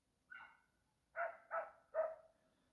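A dog barks four times at a distance: one single bark, a pause, then three quick barks in a row, faint and with no voices over them.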